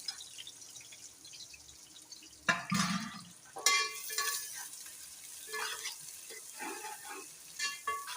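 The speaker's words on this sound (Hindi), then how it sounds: "तेल जब बहुत अच्छे से गरम हो जाए तब प्याज ऐड किया करें आप" Onions drop into hot oil for chicken biryani and burst into a loud sizzle, followed by a steady crackle of frying with occasional stirring, close up.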